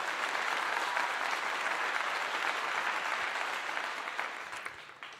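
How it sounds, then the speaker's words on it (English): Clapping from a gathered audience after a football game analysis, an even roar of applause that holds steady and then tapers off toward the end. "Let's give him a clap."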